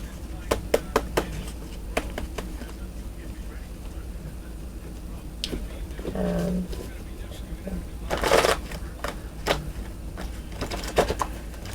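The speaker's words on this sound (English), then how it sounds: "Let's shuffle one more time." Repeated crisp riffling bursts of tarot cards being shuffled, with soft clicks and a louder flurry midway, while a voice talks quietly in the background.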